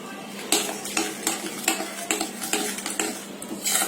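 Sifted dry ingredients mixed into cake batter in a bowl, a spoon scraping and knocking against the sides in a steady rhythm of about two strokes per second, close and clear.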